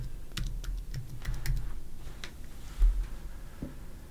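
Quick keystrokes on a computer keyboard as a search term is entered for a Raspberry Pi Node-RED dashboard, a few irregular close clicks in short bursts over a quiet room background.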